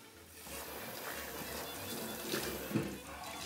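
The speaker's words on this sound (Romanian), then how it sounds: "pentru chifteluțe pui niște apă" Water splashes and trickles into a bowl of meatball mixture in a home kitchen, soft and close, with a small slosh near the end.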